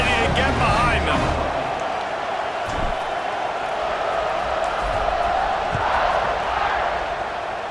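A video game stadium crowd in EA Sports College Football 26 roars steadily before a kickoff, a broad continuous wash of cheering that holds at a loud level throughout, with a few low thumps underneath and a commentator's voice over it.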